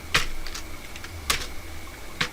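Computer keyboard typing in a few sparse, crisp key clicks, close and fairly loud against a quiet room, with no talking.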